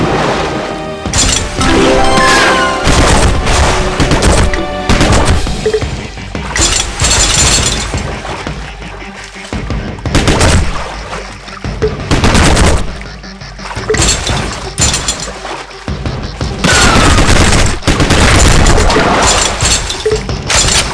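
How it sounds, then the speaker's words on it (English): Heavy machine gun fire in the mobile action game Ramboat: loud, dense bursts of rapid shots and crashing impacts repeat across the whole stretch over steady game music. "Heavy machine gun"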